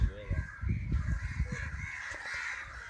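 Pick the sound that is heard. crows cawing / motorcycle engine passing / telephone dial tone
crows cawing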